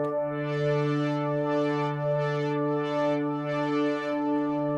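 A sustained chord on a Yamaha Montage M8X synthesizer held steady, its tone swelling and brightening in slow, repeated pulses as channel aftertouch pressure changes, with no talking.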